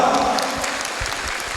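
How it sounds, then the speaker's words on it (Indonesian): Applause for the student president at a university student orientation, a dense steady patter of many hands with voices murmuring underneath. "Tepuk tangan untuk presma kita dulu kawan-kawan."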